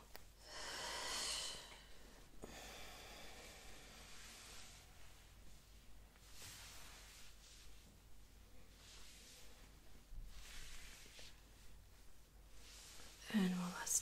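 Slow, deep breaths in and out, close and soft against quiet surroundings, with several long airy inhales and exhales spread evenly across the stretch.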